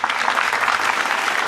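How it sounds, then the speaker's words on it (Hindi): An audience at a Hindi comedy poetry gathering in Ahmedabad breaks into dense, sustained clapping, loud and close throughout, with no other sound rising above it. "ताली बजाओ"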